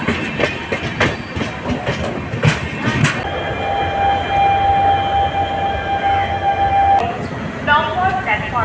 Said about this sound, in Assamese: এই গুৱাহাটী পল্টন বজাৰ ৰেলৱে ষ্টেচন।